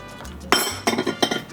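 A spoon clinks against a pot while stirring a milk custard thickened with egg and cornstarch, giving several bright, close metallic taps in an uneven rhythm with no talking.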